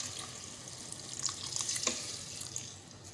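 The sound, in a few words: water poured into cooking pot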